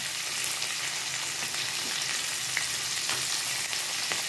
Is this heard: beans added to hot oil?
yes